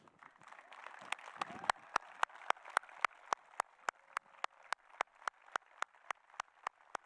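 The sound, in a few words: applause for retiring teachers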